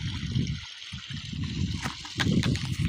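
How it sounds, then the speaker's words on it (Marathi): Water runs steadily from a borewell pipe on a farm, a continuous close splashing rush with slight surges in strength and no talk over it. "तर येत आहे पाणी चालू"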